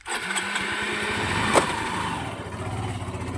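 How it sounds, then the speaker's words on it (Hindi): A motorcycle engine runs with a steady buzzing drone at moderate distance, briefly rising in pitch once as it revs, then settling back into an even idle-like hum. "चल बाइक चला"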